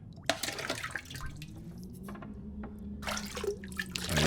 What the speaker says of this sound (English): Okay, I'm going to grab this water here.